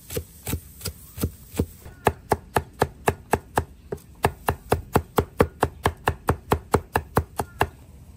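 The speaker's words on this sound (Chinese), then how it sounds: "剁点大蒜、小米辣，再切点土辣椒。" A cleaver chops garlic and small bird's-eye and local chili peppers on a wooden board in a rural kitchen, about thirty crisp, close knife strikes, sparse at first, then a fast steady rhythm, with no talking.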